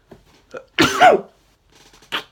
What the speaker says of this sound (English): I'm sorry, that my first on-camera sneeze.